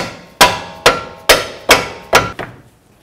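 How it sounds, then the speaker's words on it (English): A hammer strikes the front control arm of a 2007-16 GMC Acadia during a bushing replacement: six sharp metallic taps at an even, steady pace, loud and close, each with a short ringing decay and no talk. "You can take a hammer and just give it a tap."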